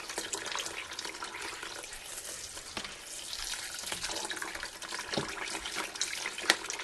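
Tap water runs into a stock pot packed with chicken for homemade chicken stock, a soft continuous trickle and splash with a few small clinks, fairly quiet and with no voices.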